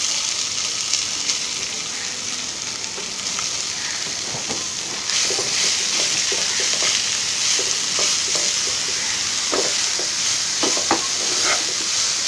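Chopped potato and cauliflower frying in oil, a steady crackling sizzle that swells midway as the pieces go in, punctuated by repeated scraping and tapping from stirring.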